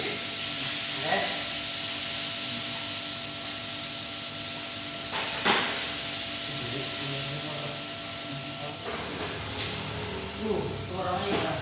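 Sliced onions sizzle in a hot pan as they are stirred, giving a continuous moderate hiss with occasional scraping clatters, while a person talks quietly over it.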